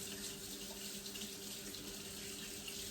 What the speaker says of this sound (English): So first things first, wash these hands. We're gonna wash our hands.